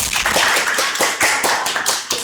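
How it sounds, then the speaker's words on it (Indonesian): Students in a classroom burst into applause, a dense steady clatter of many hands clapping that carries on for a couple of seconds before trailing off. "Beri tepuk tangan dulu dong."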